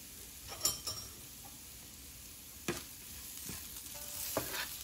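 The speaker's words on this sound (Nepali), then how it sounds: "चलाइदिउँ फेरि।" Turmeric and chili powder being stirred in a pan for green tomato pickle, a faint soft sizzle broken by a few scraping utensil strokes, close and quiet with no voice.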